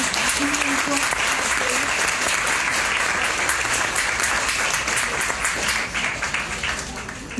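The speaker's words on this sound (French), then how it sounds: "Je pense qu'on peut l'applaudir." After a lecture, an audience gives loud, steady applause, a thick continuous clatter of many hands that keeps an even level before easing off slightly near the end.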